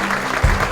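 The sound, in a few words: audience applause for teachers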